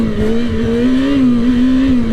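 A Yamaha R6 5EB sport motorcycle engine drones at a high, sustained rev, loud and close, its pitch wavering slightly up and down without letting off as it struggles for fuel.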